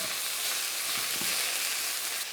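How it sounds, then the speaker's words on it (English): Bean sprouts and vegetables being stir-fried for beef chow mein, a steady broadband sizzle with a few faint scrapes of stirring, fairly even throughout and with no talk. "then in go the bean sprouts. Another quick stir"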